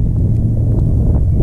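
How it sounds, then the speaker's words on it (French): Steady low wind rumbles across an open outdoor microphone on a rocking boat, a continuous buffeting roar with no speech over it. "il y a du vent"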